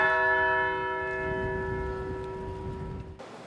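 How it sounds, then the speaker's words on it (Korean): A church bell tolls in the bell tower of Myeongdong Cathedral in Seoul, a single rich stroke ringing out and slowly decaying with a long humming tail over a quiet background, with no voices. "명동대 성당 종탑에 조종이 울리고"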